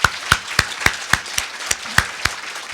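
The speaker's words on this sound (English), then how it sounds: "So let's give all these folks a round of applause." Evenly spaced hand claps from a mayoral debate audience, about ten sharp, distinct slaps in a steady rhythm, rather than a full crowd's roar.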